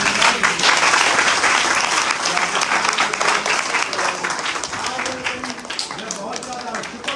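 Applause from a church congregation in Rahim Yar Khan, many hands clapping in a steady, dense wash that holds strong throughout, with a few voices under it.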